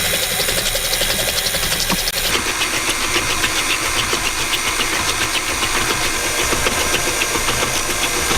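An electric mixer running on its lowest speed through cake batter for a cranberry upside-down cake, a loud, steady motor whir with a slight regular pulsing, close by.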